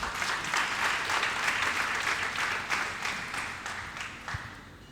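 A church congregation applauds to acclaim the Lord, a dense, steady wash of many hands clapping that swells and then gradually fades over a few seconds.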